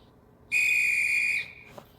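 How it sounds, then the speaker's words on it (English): A single loud, shrill railway guard's whistle blast on a station platform lasts about a second, then trails off into a faint click. "And then they waited for the guard's whistle."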